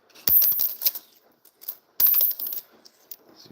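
A 1982 penny dropped onto a hard surface twice, each landing giving a sharp, bright metallic ping with a short ring and a few small bounces, close and fairly quiet.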